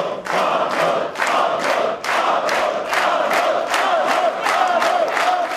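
A crowd of about 600 spectators at a boxing match in the cramped hall of the Grand Casino chants and cheers loudly, rising and falling in rhythmic bursts with no speech over it.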